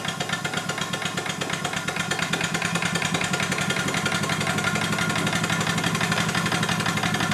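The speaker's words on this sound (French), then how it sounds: "et on lance le moteur" A Merlin locomobile engine started and running, giving a steady fast rhythmic chuffing and knocking beat that holds loud and even throughout.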